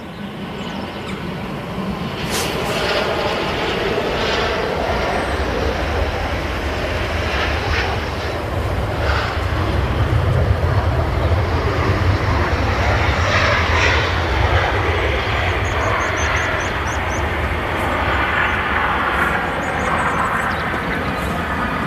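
Jet engines of an airliner at Manchester Airport roar loudly and steadily close by, a broad sustained rumble with a whine running through it and no break or talk over it.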